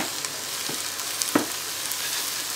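Zucchini, pepper and tomatoes for minestrone sauté in a multicooker with a steady, moderately quiet sizzling hiss, broken by a few soft stirring clicks and one sharper knock near the middle.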